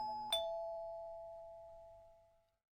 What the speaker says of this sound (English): And then the doorbell rang again.